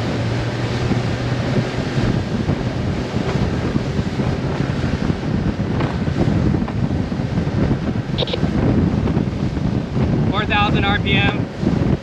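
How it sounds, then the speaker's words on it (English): A new outboard motor on a fishing boat runs continuously under strong wind buffeting, its engine drone close and loud throughout, with brief higher whining tones near the end as the revs climb. "I'm going to gradually increase the RPMs."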